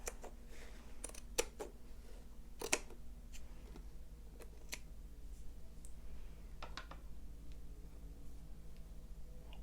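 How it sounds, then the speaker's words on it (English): Fabric scissors snip through crochet yarn fringe in a few sharp, close clicks scattered over a quiet room background, with no talk. "take your fabric scissors and just carefully cut right down the middle"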